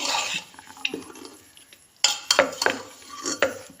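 Meat curry stirred in a metal pot with a spoon, giving intermittent scraping and clinking strokes, a clustered burst in the middle and a few knocks near the end, close and moderately loud without talk.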